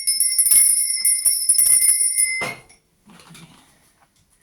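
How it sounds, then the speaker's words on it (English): A small hand bell rings out clear, sustained metallic tones in a series of close, bright strikes, then fades to quiet with a few soft clinks afterward. "I'm going to be ringing this lovely lady bell."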